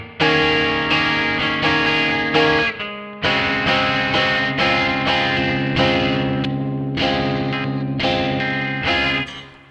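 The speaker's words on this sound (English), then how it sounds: "you can see why I don't really like the overdrive sound too much" A Guild S-60D electric guitar on its bridge humbucker pickup, with heavy overdrive, plays a series of sustained, buzzing chords, loud and close, each ringing out before the next strum.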